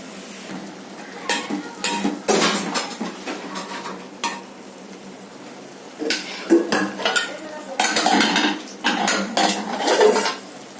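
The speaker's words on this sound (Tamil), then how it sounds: "நல்லா கொதி வந்துருச்சு. இப்போ இந்த சேமியா போட்டுடலாம்." Vermicelli tipped into boiling salted water in a pot for semiya upma and stirred, with repeated loud metal spoon scrapes and clinks against the pan in uneven bursts, close up and alone.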